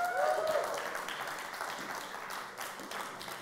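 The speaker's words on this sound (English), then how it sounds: "Can I have a round of applause for your DCI candidates?" Faint, distant round of applause at a student union election debate for candidates, a steady soft patter of many hands lasting a few seconds, with a brief tonal sound at the start.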